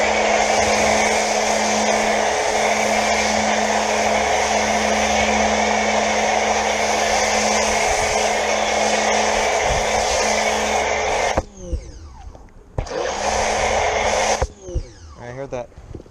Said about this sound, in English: I heard that, what I call the overdrive pump, and it's not a sound I like to hear.